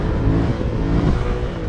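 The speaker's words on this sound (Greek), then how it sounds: "Με πρώτη, ανοίγεις λίγο πιο απότομα τον γκάζι." A 2020 Yamaha MT-07 motorcycle revs and accelerates hard in first gear, a loud close engine drone that holds steady throughout with no talking.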